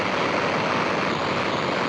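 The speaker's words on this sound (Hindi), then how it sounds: "जेट इंजन जैसा इसका इंजन है" A video game supercar engine, likened to a Lamborghini jet engine, roars in a steady high-pitched whine and rush, loud and constant throughout with no speech over it.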